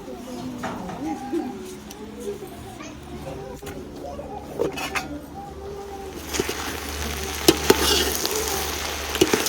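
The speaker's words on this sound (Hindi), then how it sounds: "हाँ, चम्मच घुमा दो।" Spoon stirring food in a pot over a village cooking fire, with frying sizzle underneath; scraping strokes repeat while children and adults talk and play nearby, the sizzle growing louder toward the end.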